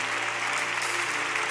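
Congregation at a church service applauding and cheering, a dense, steady wash of clapping with crowd noise throughout, loud and close, with no clear gaps.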